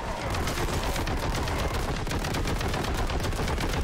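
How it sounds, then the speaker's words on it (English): Heavy bolter fire in Warhammer 40,000: Boltgun, a dense, continuous stream of loud rapid gunshots hammering without pause for the whole stretch. "We'll go heavy bolt for this."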